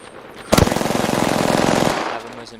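Rapid automatic gunfire from a weapon in the video game Apex Legends, a dense sustained burst of about one and a half seconds that opens with a loud crack and then stops abruptly.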